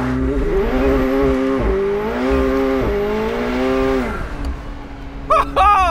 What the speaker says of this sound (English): It's got rolling burnout mode!